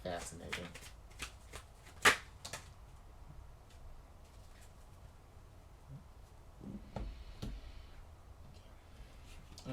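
Tarot cards being shuffled close by, a series of quick crisp riffles and snaps spread over several seconds, with a louder burst near the start and softer shuffling later.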